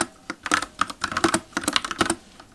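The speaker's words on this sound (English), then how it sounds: "I absolutely love my new mechanical keyboard" Rapid, clacky keystrokes on a custom-built mechanical keyboard, close up, in an uneven burst of typing with short pauses between clusters of keys.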